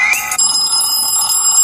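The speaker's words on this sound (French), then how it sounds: "Ça fait très rétro sur un téléphone moderne." Old-fashioned telephone bell ringtone played on a modern smartphone, a loud, close metallic trill that rings steadily and alone without pause.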